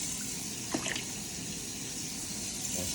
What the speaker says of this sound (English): I kind of like to rinse it out a little bit,